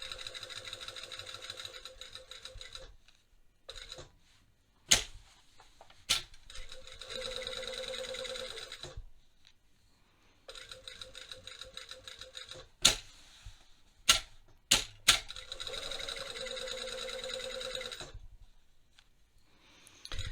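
A sewing machine stitches the back pieces of jeans in several bursts of rapid mechanical whirring and chattering, separated by pauses with sharp clicks and knocks, close and alone.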